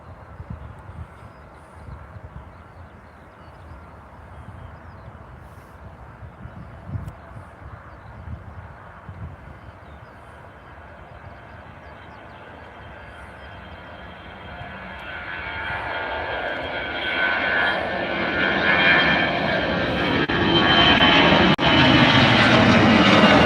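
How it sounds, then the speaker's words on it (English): Embraer jet taking off at Edinburgh Airport, its engine roar building steadily from a distant hum to a loud, broad, sustained rush filling the scene toward the end, with no talk. "You can hear the Embraer in the background."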